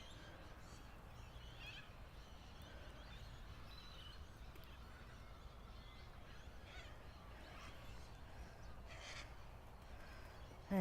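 Corellas and a few cockatoos call by a lake in the early morning, harsh screeching cries scattered faintly at a distance over a steady low outdoor hum, with no talking.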